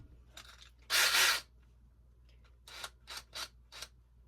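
A short burst of high-pitched whirring from a DeWalt cordless drill, followed by several brief quick pulses of the same motor, close by with no talking.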